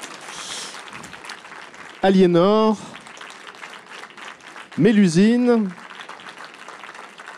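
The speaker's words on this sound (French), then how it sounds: "là vous applaudissez." Audience clapping for the narrators of a science-explorers storytelling event, a moderate broad wash of applause beneath a voice calling out names in French.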